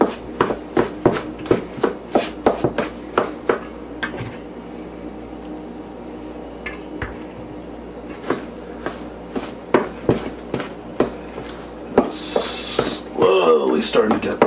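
Cornbread batter is mixed by hand in a bowl, giving a rapid series of soft, wet slapping and scraping strokes at a steady rhythm, close and fairly loud, with a brief muffled rustle near the end.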